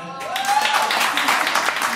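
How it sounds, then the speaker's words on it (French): Applause from a studio audience at a French-language Quebec game show, a broad steady wash of clapping that starts abruptly and holds at moderate volume throughout, with a brief voice or cheer near the start. "Applaudissez, s'il vous plaît."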